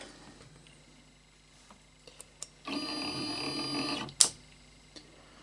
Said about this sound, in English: rotates to the next step, unlocks the table, and when done positioning, locks the table